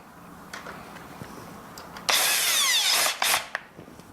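A cordless drill with torque set to zero whirs in a sustained burst of about a second driving a thread-cutting screw, then a shorter second burst, with quiet handling noises before and after.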